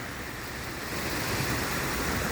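Santa Ana Riverbed in California, normally dry, flowing as a raging river after three days of storm rain. A loud, dense, continuous roar of rushing water fills the clip, with some wind buffeting.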